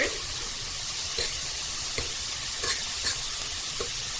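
Philly cheese steak filling sizzles steadily on a flat-top griddle set to 400 degrees, with occasional scraping and stirring strokes from a spatula, close and continuous.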